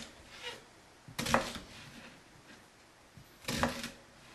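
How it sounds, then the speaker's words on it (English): A kitchen knife slices vegetables on a cutting board for homemade chili, with two distinct close chopping strikes set apart in otherwise quiet surroundings. "I get the outside edges off, then I cut them into slices like this."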